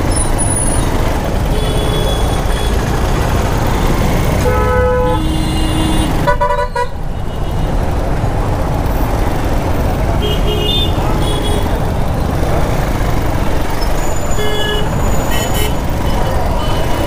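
Dense town road traffic in Vinukonda, Andhra Pradesh, with trucks and buses sounding repeated horn blasts and a hiss of air brakes over a constant loud roar of engines heard from a moving bike.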